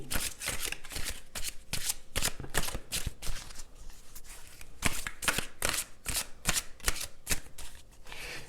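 Tarot cards being shuffled close by, producing a quick, rhythmic run of crisp riffling flutters that repeats steadily throughout with no talking.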